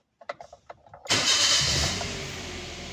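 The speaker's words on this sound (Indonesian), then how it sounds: "Nah, coba kita hidupkan mesin." A Daihatsu Terios TX with automatic transmission cranks and fires up close by, its engine catching loudly and settling into a steady, slightly quieter idle, preceded by a few short clicks.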